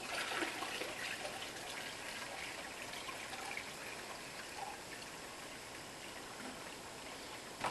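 Water from a bucket pours steadily into an aquarium during a water change, a continuous splashing, trickling rush heard close up without talk.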